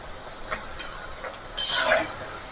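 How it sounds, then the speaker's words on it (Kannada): Appe dumplings fry in hot oil with a soft, faint crackling sizzle, then a brief louder hiss bursts up and fades back into the gentle bubbling. "ಈಗ ನೋಡಿ ಎಲ್ಲ ಬಿಸಿ ಎಣ್ಣೆಗೆ ಹಾಕ್ಕೊಂಡಿದ್ದೀನಿ, ಎಲ್ಲ ಕರಿತಾ ಇದ್ದೀನಿ ಎಣ್ಣೆಯಲ್ಲಿ"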